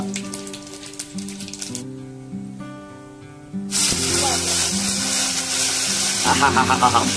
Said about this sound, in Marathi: फोडणी बघा कशी बसली